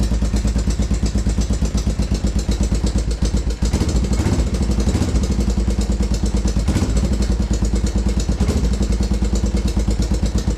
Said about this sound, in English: Valve tick's usually not that loud.